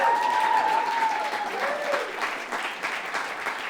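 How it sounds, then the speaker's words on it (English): Steady audience applause for a guest at an interview event, a continuous wash of many hands clapping with a brief whistle early on, holding level throughout. "Let's give him a round of applause."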